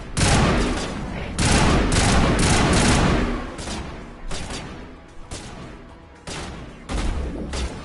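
Sustained bursts of video game gunfire in Mass Effect, a dense rattling fusillade in repeated loud volleys separated by short lulls, with a few quieter single shots in between.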